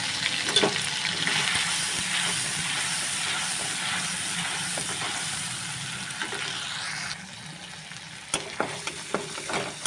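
Boiled and ground ginger, garlic and onion paste fries in a kadai on a gas stove, giving a continuous close sizzle and hiss that softens slightly toward the end, with a few faint clinks.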